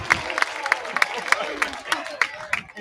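A college baseball crowd at a Texas State Bobcats versus Sam Houston Bearkats game claps in a steady, evenly spaced rhythm of sharp beats after a strike, with a soft murmur of voices underneath.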